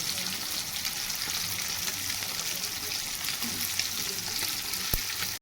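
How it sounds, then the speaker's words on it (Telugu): A steady bubbling sizzle from a pan of fish curry simmering after water is added, with faint occasional clinks, continuous throughout. "వాటర్ వేసిన తర్వాత ఇలా ఉడుకుతుంది."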